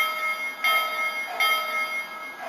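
Toy train engine bell from a model set of the C&O 2765 locomotive, ringing in a few evenly spaced electronic dings over a faint steady tone, close and alone.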